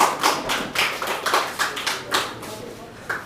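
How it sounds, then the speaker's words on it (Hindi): An audience at a Hindi poetry recital applauds with a burst of scattered, moderately loud claps that rise and fall over a few seconds. "तो आप लोग पहले खुद के लिए एक बार ताली तो बजा लें"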